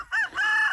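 A chicken on a farm in the Philippines crows nearby, a short, bright two-part call lasting under a second, clear and fairly loud with nothing else over it.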